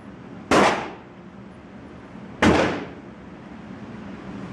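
Two loud, sharp gunshots from a Crusader Broadsword rifle chambered in .308, spaced about two seconds apart, each a sudden crack followed by a short decaying outdoor echo, no talking.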